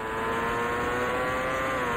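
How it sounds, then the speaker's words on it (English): A race car engine in the Indycar Racing II video game, a 1989 CART race at Cleveland, drones loud and continuous at high revs with a steady tonal whine and no gaps. "try not to over rev the engine"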